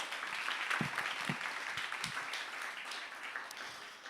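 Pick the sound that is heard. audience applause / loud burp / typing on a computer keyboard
audience applause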